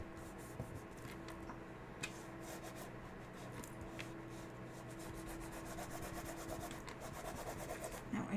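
A burnishing tool rubs steadily over wet glue on a paper craft project, making a soft, continuous scraping texture close by with faint periodic strokes and no talking.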